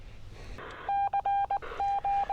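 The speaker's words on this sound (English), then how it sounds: "We get up here and can hear FT8" FT8 digital-mode tones received on a ham radio through a cheap coax-free antenna that has not been tuned yet: a steady mid-pitched tone switching on and off in short, even bursts, fairly strong over faint background hiss.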